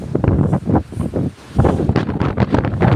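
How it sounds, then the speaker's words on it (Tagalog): Strong wind buffets the microphone in loud, gusty roars that dip briefly and surge back, with no voices. "grabe hangin dito mga katasyo"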